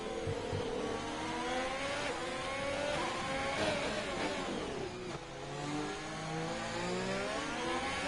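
Formula racing car engines in a PS4 league race at Singapore whine at high revs, pitch climbing through gear changes as several cars pass close by, steady and loud throughout.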